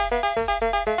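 The Dig Dug arcade game's drilling sound effect is a bright, chiptune-like electronic tone that pulses in a quick, regular rhythm of about seven repeats, each with its pitch stepping downward.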